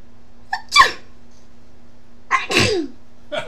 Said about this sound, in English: Sneeze sound effect.